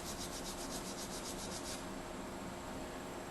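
A brass brush scrubbing the breech face of a Beretta PX4 Storm Compact .40 caliber pistol coated with CLP, a close, steady, harsh rubbing with quick back-and-forth strokes and nothing else heard.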